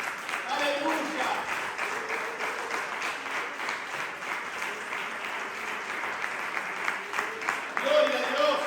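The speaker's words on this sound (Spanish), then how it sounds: "Den un aplauso al Señor" A church congregation applauds steadily in praise, broad dense clapping sustained throughout, with voices mixed in beneath the applause and a louder swell near the end.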